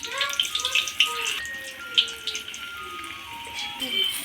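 Battered green chilies slide into hot oil for mirchi bajji and sizzle steadily, a bright crackling hiss with small pops that continues close by throughout.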